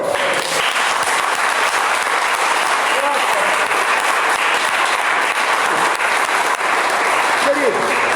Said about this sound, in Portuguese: Podemos aplaudir o nosso Deus?